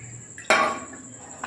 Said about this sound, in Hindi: इधर लिए मैंने पानी, ये भी इसमें हम डाल देंगे।